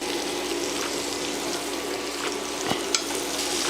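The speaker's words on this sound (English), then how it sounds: "Now we're gonna add our butter." Butter sizzles in a hot pan with garlic and crushed peppers, a loud, close, continuous frying hiss with a couple of faint clicks near the end and no voices.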